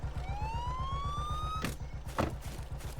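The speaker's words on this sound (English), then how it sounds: "some cars even have sirens, which you have to rebind" A vehicle siren in the military sandbox game LVS wails as one rising tone over a steady rhythmic engine chug, then cuts off, leaving the engine running with a couple of brief clunks.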